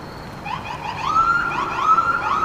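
An emergency vehicle siren wails through rising and falling sweeps, growing somewhat louder as it passes at moderate distance, with no voices.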